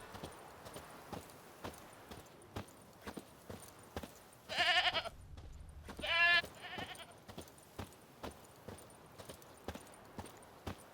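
A goat in The Witcher 3 video game gives two distinct bleats amid steady hoof-like clopping footsteps, fairly close and moderately loud.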